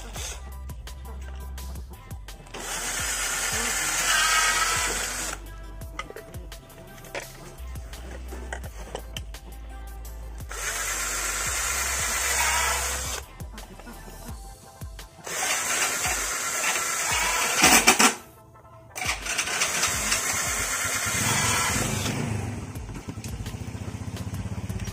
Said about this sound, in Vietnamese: bắt đầu mình khoan mấy lỗ để báo pin nha các bạn.